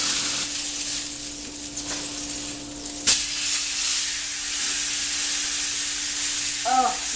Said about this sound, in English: then the beef will release from the pan on its own when it has finished searing on that side